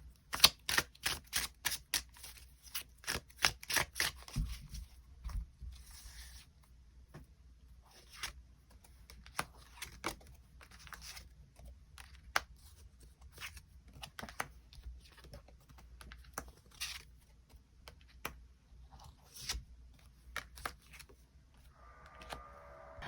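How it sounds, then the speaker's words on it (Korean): Tarot cards are drawn and handled during a reading. A rapid run of crisp clicks and flicks is followed by sparser, quieter card snaps spread out over the rest. "추가 카드 뽑아보도록 하겠습니다"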